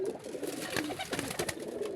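A flock of racing pigeons coos steadily up close, overlapping low throaty rolls and soft burbling filling the moment with no speech.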